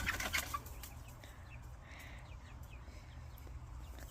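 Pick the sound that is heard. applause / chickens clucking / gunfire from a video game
chickens clucking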